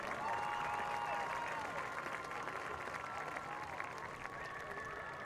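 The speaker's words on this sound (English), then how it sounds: "Please give them a big round of applause." A crowd at a high school football event applauds in a faint, steady spatter of clapping, with voices and distant tones mixed into the background throughout.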